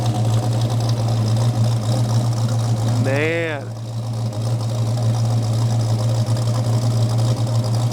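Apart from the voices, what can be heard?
1969 Charger engine idling at 850 to 900 RPM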